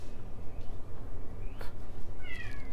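A cat gives a faint meow followed by a short drawn-out call near the end, quiet against a rumbling, pulsing background close to the microphone, with no talking.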